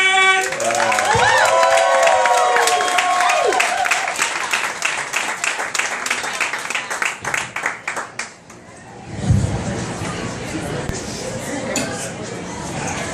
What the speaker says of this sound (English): I want everyone to give a big round of applause for Cat Harvey!